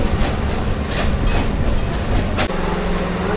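A train rolls through Natore railway station with a close, loud clattering rumble and rhythmic wheel clicks over the rails, steady for the whole stretch, with no speech.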